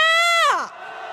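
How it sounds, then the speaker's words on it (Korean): A crowd at a Hongdae street protest march lets out a loud cheer: one strong voice rises in a long shout that bends downward, then dissolves into a softer, sustained roar of many voices. "함성 시작!"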